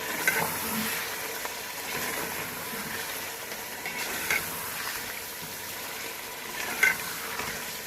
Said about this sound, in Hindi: इसमें ऐड कर देंगे और इसको और अच्छे से भूनेंगे इसमें